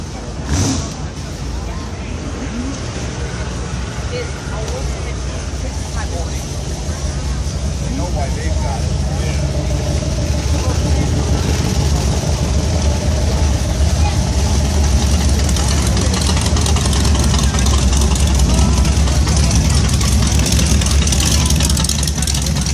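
A Studebaker's engine rumbles steadily at an outdoor 1950s car show, a loud continuous low drone that grows slightly as the car nears, with people talking over it.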